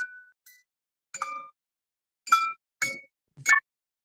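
A vintage musical toy figure with plastic hands chimes out Jingle Bells in short, bright, glassy bursts separated by silent gaps, heard close and alone.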